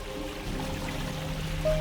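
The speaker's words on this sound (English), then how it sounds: "we can still hear the faint sound of running water" Water running steadily behind a closed door in a Half-Life 2 mod, a continuous pouring trickle heard muffled, with low tonal hum beneath and no speech.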